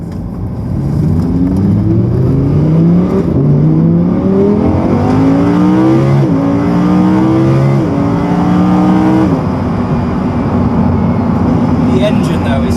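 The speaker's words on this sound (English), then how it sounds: "It's a naturally aspirated V10, it sounds mega." A Lamborghini Huracan's naturally aspirated V10 revs loud and close, climbing in pitch through gear after gear. Several quick upshifts each drop the note before it rises again, and the engine holds a high, steady howl near the end.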